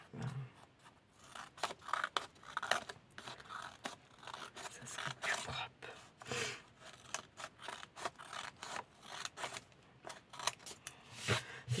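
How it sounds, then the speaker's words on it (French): Scissors snip through paper in quick, irregular bursts for a junk journal, close and fairly loud with crunchy rustling between cuts and no talk. "C'est pas ça le meilleur ciseau ça"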